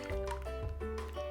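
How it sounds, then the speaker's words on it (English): Melted butter pours into a new bowl while baking chocolate chip cookies, a brief soft liquid splash and trickle heard close up, accompanied by faint background tones. "We're going to pour our melted butter in a new bowl."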